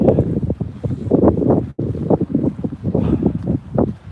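Wind buffets a microphone outdoors in a Scottish Borders forest with loud, irregular low rumbling gusts and no voices.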